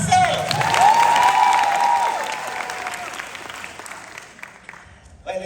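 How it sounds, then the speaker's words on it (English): Audience applause at a Jamaica 60th Independence celebration, loud and dense at first with cheering mixed in, then gradually thinning and fading over several seconds. "Clap yourself."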